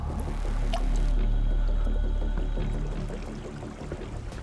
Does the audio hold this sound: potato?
no